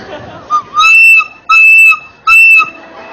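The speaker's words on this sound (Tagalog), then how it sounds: "Pag po emergency, sumipot po kayo ng 3 beses." A whistle blown three times as an SOS emergency signal: three loud, shrill blasts each about half a second long, separated by short gaps, with a brief faint chirp before the first.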